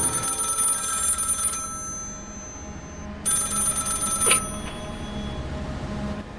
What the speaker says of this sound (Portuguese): 2h da manhã, toco o telefone.